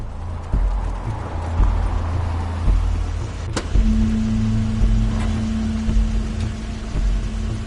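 Car arriving in The Wolf Among Us: a low engine rumble with clopping, knocking noises, then a sharp click and a steady hum as it pulls up and idles nearby.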